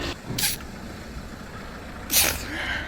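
Two sharp, breathy sneezes burst out from a woman, one early and a louder one later, over a quiet background hum.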